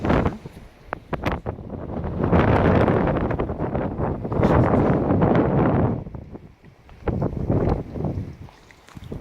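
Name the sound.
wind noise on the microphone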